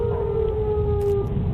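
A tornado warning siren sounds as a steady, loud wailing tone that drifts slightly in pitch, sustained for the whole moment over a low background hum, with no talking.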